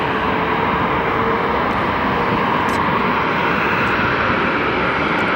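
A Boeing 737 MAX 8 jet roars on departure to Nashville from Phoenix Sky Harbor Airport, a loud, steady, broadband engine rumble that fills the whole stretch without letting up.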